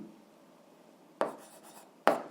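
Pen writing on paper while working an 8th-grade algebra exercise, faint and close, with two short scratchy strokes standing out against quiet room hush.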